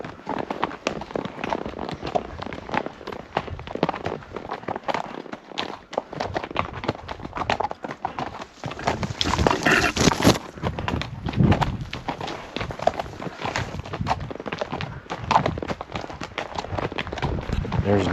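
Horse hooves clip-clop at a steady walking rhythm on a trail while being ridden near a homestead, with a quiet voice talking over the continuous rustle and hoofbeats.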